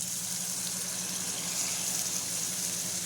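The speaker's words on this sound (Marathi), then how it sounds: "त्याच्यावर वरून हे वाटणाचं पाणी टाकतोय आपण" Water rinsed from a mixer jar with ground masala pouring into a pan over a sizzling tempering, a steady gushing rush without pause and with no talk.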